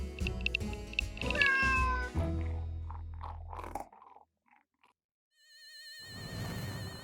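Cartoon cats meow repeatedly in a clear, close series of cries, with a brief quiet gap before a high, wavering tone and softer sounds return at the end.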